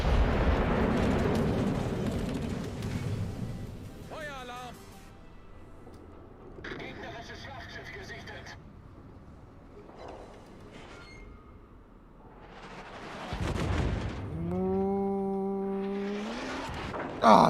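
Heavy HE shell impacts from a Thunderer battleship in World of Warships strike a ship's superstructure as deep rumbling blasts and crashes, mixed with game alert tones and someone talking over them.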